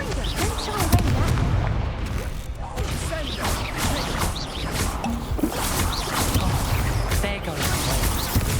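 Confringo spell blasts in the video game Hogwarts Legacy crack and boom in rapid, repeated bursts, steady and fairly loud against a busy combat soundscape.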